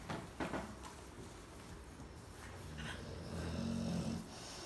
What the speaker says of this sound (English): Yeah, she's snoring.